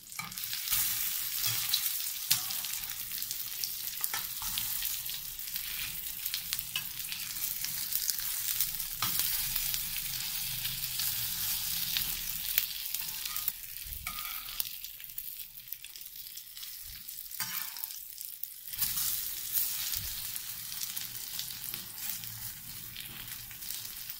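Egg and potato kababs shallow-frying in a pan over a medium flame, giving a soft, steady hiss and crackle that runs on evenly for a long stretch, close by and fairly quiet, with no voices.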